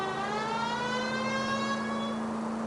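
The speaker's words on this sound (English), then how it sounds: "When you got the sirens on, people move out of the way." A police car siren in the 1940s Los Angeles detective game L.A. Noire, a steady wailing tone with layered harmonics that holds for the whole stretch over a low engine hum.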